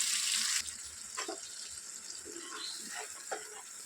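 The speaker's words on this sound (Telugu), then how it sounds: "ఇందులోనే కొద్దిగా వాటర్ వేసి" Water is poured into a pan of ground masala paste for rajma curry: a brief bright gush at the start, then a few soft clinks and stirring taps.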